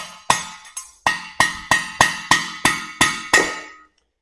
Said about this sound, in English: just smack it with a hammer